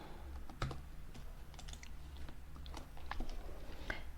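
Fingers tapping out an HTML bold tag on a computer keyboard, a quick run of soft, close clicks over a low room hum.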